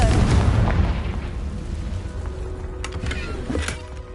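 A booming blast from the Confringo explosive curse spell in Hogwarts Legacy, loud at first and rumbling as it decays, with a few sharp pops after.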